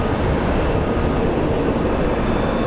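An Alaska Air airliner at Phoenix Sky Harbor airport produces a broad, steady jet roar, loud and unbroken for a few seconds.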